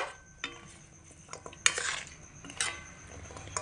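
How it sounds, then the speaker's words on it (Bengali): Gaja sweets stirred into sugar syrup in a pan give a few soft metallic knocks and clinks of a utensil, then a couple of louder scraping sweeps against the pan, close and otherwise quiet. "এবার আমি এর মধ্যে গজাগুলোকে ঢেলে দেব গজাগুলোকে ঢেলে দিয়ে এইভাবে নাড়াচাড়া করে দেব"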